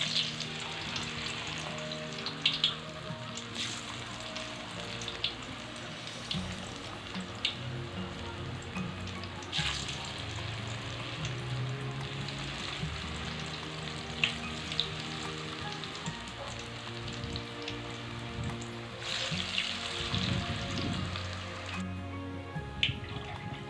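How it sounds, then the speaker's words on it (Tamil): Sliced maravalli kilangu (cassava) chips deep frying in hot oil: a soft, steady bubbling crackle like light rain, broken by occasional sharper spits and stirring clinks, continuing evenly without voices. "நம்ம சீவி வச்சுருக்க மரவள்ளிக்கிழங்கை ஒவ்வொன்றா சேர்த்து நல்லா பொரித்து"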